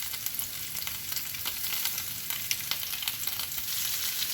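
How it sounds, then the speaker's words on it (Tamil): Fish shallow-fries in oil on a dosa pan with a steady, crackling hiss and sharp pops that keep going from start to end, fairly close and with no talking. "நான் இன்றைக்கி வந்து ஷேலோ ஃப்ரை தான் பண்ணுறேன்."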